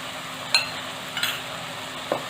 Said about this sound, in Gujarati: તેની અંદર જે આપણે લીલી પેસ્ટ બનાવી હતી તે ઉમેરી દઈશું